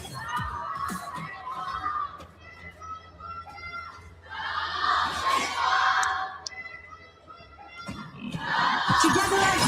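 Large esports grand final audience cheering, shouting and screaming in loud waves that swell, dip and surge again over a constant low arena rumble.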